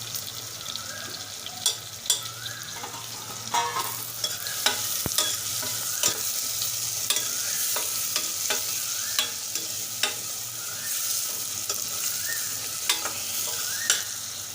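Peas and a potato fry in oil for masale bhat, a steady soft sizzle broken by repeated spoon scrapes and taps against the pan, close and without talking.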